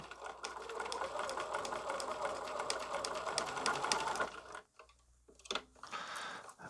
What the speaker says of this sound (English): I put the foot down, and the machine is on, and we're on normal stitches, and I'm going to do just a couple normal stitches